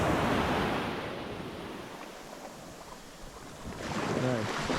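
Surf washing onto a clear-water beach in Montserrat, a loud rushing swell that eases, then builds again, with wind buffeting the microphone and a brief voice near the end.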